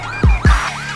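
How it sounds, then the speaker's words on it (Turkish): Police siren from a GTA 5 LSPDFR SWAT raid, loud and close, with two quick rising whoops followed by a wavering wail in a short burst. "Çaktım sireni."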